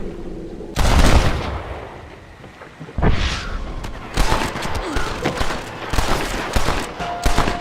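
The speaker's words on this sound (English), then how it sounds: "They're shooting down on us!" Enemies on a clifftop fire down in Red Dead Redemption, sharp gunshots cracking in bursts, with a heavy volley near the start, another at three seconds and a steady run of loud shots through the end.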